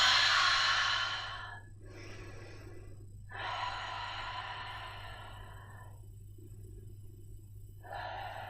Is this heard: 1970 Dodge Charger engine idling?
no